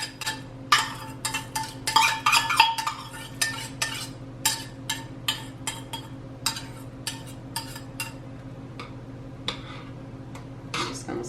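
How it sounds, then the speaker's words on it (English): A spoon stirring red rice in a pot, with a steady series of light scraping clicks against the metal, louder and denser at first, then settling into an even rhythm over a constant low background hum. "I'm just going to stir this around"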